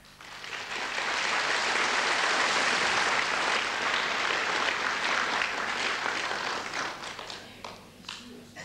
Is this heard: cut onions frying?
no